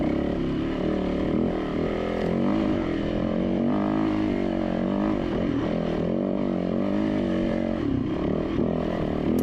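A dirt bike engine drones steadily and loudly up close as it climbs a loose, rocky hill, its pitch wavering with the throttle for the whole stretch.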